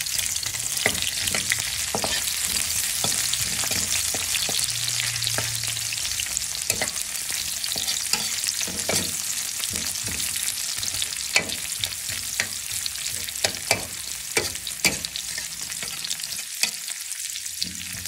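Onions frying in a pan, a continuous bright sizzle with frequent small clicks and scrapes of a spatula stirring, close and steady throughout.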